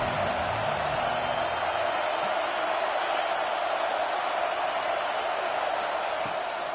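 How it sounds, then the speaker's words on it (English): A football stadium crowd in a Madden video game keeps up a loud, steady roar on a third-down defensive stand, a constant wash of noise without distinct voices. "Decibels rising as the crowd gets behind this defense on 3rd down."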